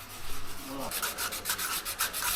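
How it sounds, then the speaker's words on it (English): Sandpaper scrubbing the fibrous outer layer off a coconut, heard as a steady run of close, rhythmic rubbing strokes with no talk. "Polishing coconuts, which basically is to remove this outside layer with sandpaper."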